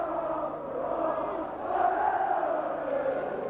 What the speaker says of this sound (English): The crowd waiting with bated breath.